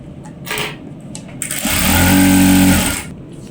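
Domestic sewing machine running a straight seam on pant fabric, a steady motor whir that starts up mid-way, holds for about a second and a half, then stops, preceded by light handling sounds.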